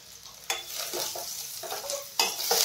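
Sliced onion fries with cumin in a hot pan for dosa, giving a steady close sizzle while a spoon scrapes and stirs in bursts against the pan.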